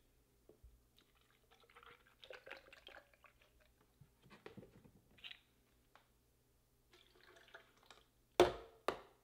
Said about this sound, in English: Then, about 8 ounces of almond milk.